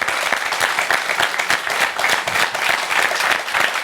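An audience at a university event applauds, a lively dense patter of many hands clapping with slight swells, steady and close for a few seconds.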